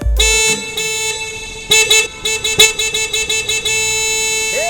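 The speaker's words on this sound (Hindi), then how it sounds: "इतनी ट्रैफिक में तुम्हें जोर जोर से हॉर्न बजाने की क्या जरूरत है?" Car horns blare in a traffic jam: a sustained honk runs throughout while another horn sounds in a rapid series of short, loud toots, close and insistent.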